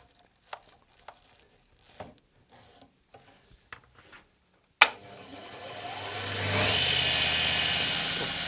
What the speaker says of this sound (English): this generator powered with a motor